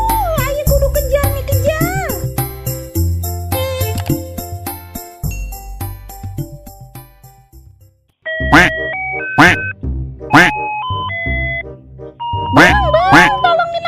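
A cartoonish duck quacks repeatedly over a bright, jingly comedy music track, with short tonal squawks in bursts during an Indonesian ondel-ondel skit where a duck runs off with a glass of sweet iced tea.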